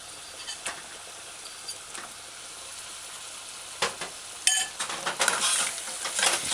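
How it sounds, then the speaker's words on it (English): Goat meat being stirred with curry powder in a pot on a medium-low stove, giving soft intermittent scraping and clinking of a utensil against the pot, with louder stirring bursts toward the end over a quiet background. "Stir it in and coat all the meat with the curry powder"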